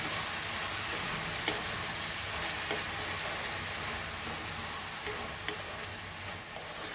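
Turmeric powder being stirred into French beans in a pan for a Goan-style foogath, a steady close sizzle with soft scraping stir strokes and a few faint clicks throughout, no voices.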